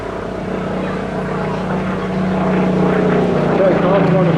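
Supermarine high altitude reconnaissance aircraft passing at a seaside air festival, a steady droning propeller engine roar that builds slightly and holds throughout, with a faint higher whine near the end.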